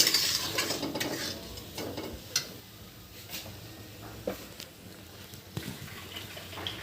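Spices frying with salt in a pan for a prawn curry, with a soft steady sizzle under scattered light clinks and scrapes of a spoon stirring against the metal.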